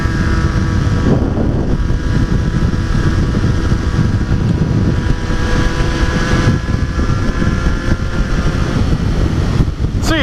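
A 2012 Triumph Street Triple 675 motorcycle exhaust roars loudly and continuously up close, mixed with heavy wind rush throughout.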